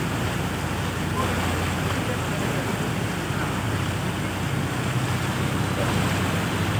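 Rainwater floods across National Highway 16 at Peddapadu, a steady, loud, unbroken rushing roar like surf that fills the whole stretch without letting up.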